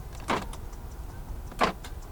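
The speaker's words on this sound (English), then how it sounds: "Electronic central locking." Two quick mechanical clunks from the central door locks of a 2024 Hyundai Tucson 1.6T actuating, about a second apart, close by over a low steady hum.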